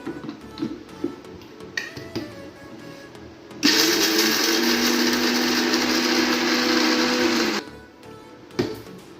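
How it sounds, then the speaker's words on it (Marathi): A kitchen mixer grinder runs for about four seconds with a loud, steady whirring roar, then stops abruptly, framed by a few clicks and knocks before and after. "इथे आपण मिक्सरला फिरून घेऊया"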